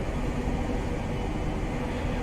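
A Class 700 electric train passing by in Train Simulator, heard as a steady, even rumble with no gaps.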